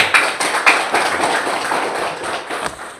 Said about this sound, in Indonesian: Kita tepuk tangan dulu untuk kemuliaan Tuhan